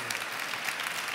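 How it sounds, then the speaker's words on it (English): Audience applause at a conference opening ceremony, a short burst of steady clapping from a crowd, moderately distant and even in level. "I'd say a huge applause for the teams that put up this monumental program."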